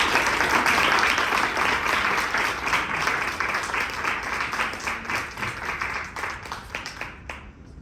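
Audience applause for an honoree at a Women's History Month awards ceremony, sustained crowd clapping that starts full and gradually thins and fades toward the end.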